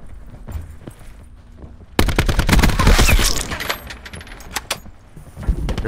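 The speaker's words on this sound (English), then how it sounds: "I'm getting shot at" Gunfire in the shooter game Call of Duty: Black Ops 4, quiet at first, then sudden loud rapid bursts of automatic fire with clinking shell sounds, dense and close, easing slightly before another burst.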